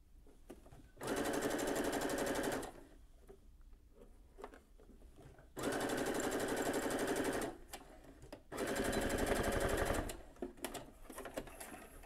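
Sewing machine stitching straight down an ironed crease line while an invisible zipper is inserted with a regular foot: three close, steady bursts of rapid stitching, each lasting a couple of seconds, with quiet pauses between them.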